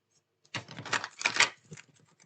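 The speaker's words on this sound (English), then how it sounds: "And one more shuffle." Tarot of Dreams cards riffle-shuffled in a close, dry flutter of rapid papery clicks, building in two bursts over about a second and then trailing off into a few soft taps.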